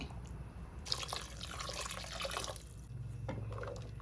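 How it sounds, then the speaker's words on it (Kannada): Water is poured into a pot of sheep trotter curry in a close, splashing stream for a couple of seconds, then gives way to quiet drips and a low hum. "ಇನ್ನು ಸ್ವಲ್ಪ ನೀರು ಹಾಕ್ತಾಯಿದ್ದೀನಿ"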